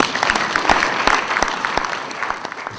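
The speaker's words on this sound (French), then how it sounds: "Sous vos applaudissements." A ceremony audience in Burkina Faso applauds with steady, dense clapping that stays fairly loud throughout, with sharper individual claps standing out from the crowd.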